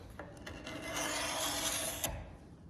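A sharp knife blade scraping the finish off the flat of a wooden axe handle, a close, continuous dry rasping that builds to steady strokes and then eases off, with no talking.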